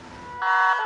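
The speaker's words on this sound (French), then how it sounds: "les pompiers peuvent désormais actionner une sirène américaine" An American wail siren on a fire engine in Limoges suddenly rises and holds loud and steady after a brief lower rumble, sounding near and piercing.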